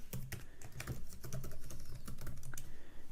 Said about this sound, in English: So I type the password, and now it seems to be working.